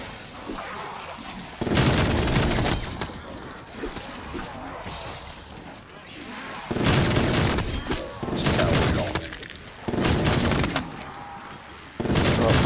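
Minigun fire in Call of Duty: Cold War Zombies, loud sustained bursts of rapid shooting lasting a couple of seconds each, separated by quieter gaps, with players talking in between.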